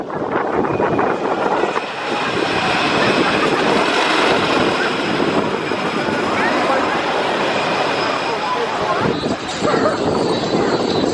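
Roller coaster train at Kentucky Kingdom, with propellers on its front cars, running along the track: a loud, continuous rushing roar with rattling that persists steadily throughout, swelling briefly near the end.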